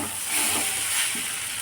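Drained chow mein noodles, cooked with potato, hit a hot pan and sizzle steadily, with a soft hiss and light stirring scrapes, close by and with no voices.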